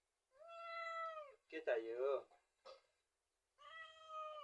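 A hungry house cat meows close by in a village home, two long, clear cries with a person's voice speaking briefly between them.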